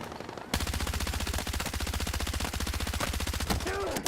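Rapid, sustained automatic gunfire from the video game Battlefield 6, a loud continuous burst of evenly spaced shots running for several seconds after a brief quiet start, with a short pause near the end.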